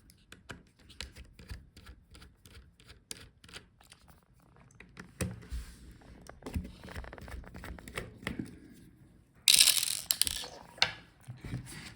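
Small screws being unscrewed inside a Dell Inspiron 16 5640 laptop, quick close ticking clicks of a screwdriver in rapid bursts, with a louder crinkling rustle toward the end.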